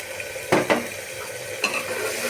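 Cardamom, cinnamon, dried chillies and ground chilli, turmeric, coriander and garam masala sizzle in a pan with a steady frying hiss, broken by a few sharp scrapes of stirring, close and alone.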